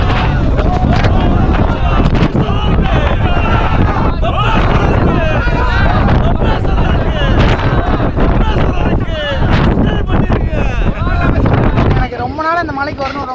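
Strong wind buffets the microphone on a hilltop trek near Dindigul, a loud continuous roar and rumble under steady talking throughout.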